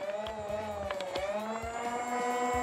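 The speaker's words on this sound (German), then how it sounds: "Der Motor geht ab." A motorized Nerf-style foam dart blaster based on a Fortnite toy whirs as its flywheel motor spins up, a steady rising buzzy tone with harmonics and a few clicks, close and fairly loud.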